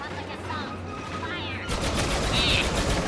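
Explosions and rapid gunfire from a Star Wars Battlefront 2 battle, a dense loud barrage of blasts that swells louder partway through.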